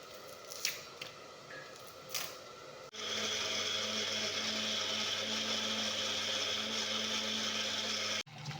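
A kitchen blender grinds onion and tomato into paste for chicken curry, a loud steady whirring motor drone lasting about five seconds after a few faint handling clicks, then cutting off abruptly.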